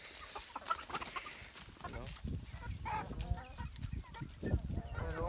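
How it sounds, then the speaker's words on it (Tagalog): Hungry chickens cluck and squawk close by at feeding time in a busy, irregular chorus, with scattered bumps and rustling around them. "pakain ko muna yung mga manok Kasi gutom na gutom sila"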